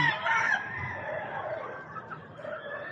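An exotic-breed rooster without scales crows loudly and close, the call stretched out over a few seconds against a low background rumble.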